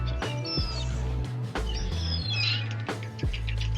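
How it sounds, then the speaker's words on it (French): Large flock of around three hundred seagulls in a sunny southern setting, calls overlapping in a steady, close chorus over a loud low background rumble, with a few sharper squawks rising out of the mix. "Il y a au moins 300 mouettes."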